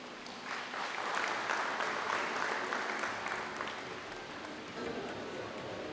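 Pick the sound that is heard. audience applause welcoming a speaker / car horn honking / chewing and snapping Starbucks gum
audience applause welcoming a speaker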